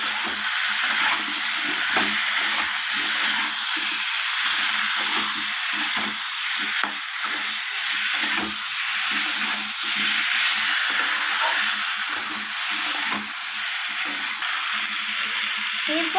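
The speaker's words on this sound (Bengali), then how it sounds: "এরপর আমি সব কিছুর সাথে কুমড়ো আলুর সাথে মশলাগুলোকে ভালোভাবে নাড়িয়ে চাড়িয়ে এইভাবে কষিয়ে নেব" Pumpkin and potato stir-fried with spices in a pan, a loud, unbroken hissing sizzle close up with repeated soft stirring scrapes throughout and no speech.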